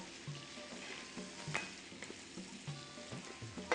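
Salted pieces of liver fry and get stirred in a pan for pâté, a faint, steady sizzle broken by soft scrapes and a few sharper clicks of the utensil against the pan.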